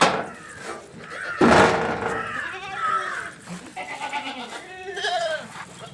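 A goat bleats nearby several times, wavering calls mixed with a thump and a voice in the background.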